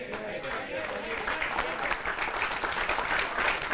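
Audience applause at a Holi comedy poetry gathering, a dense sustained roar of clapping and crowd noise with voices mixed in underneath.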